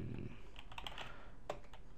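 Computer keyboard typing while entering a username into a Java program, a quick burst of close, light keystrokes over a faint steady hum.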